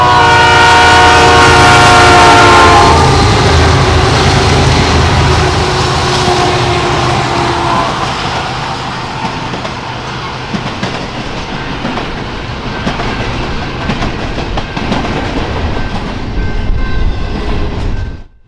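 A BNSF intermodal freight train led by Norfolk Southern locomotives sounds a loud, sustained multi-tone horn at the start, then its wagons roll past with steady rumble and rhythmic clickety-clack that swells again near the end.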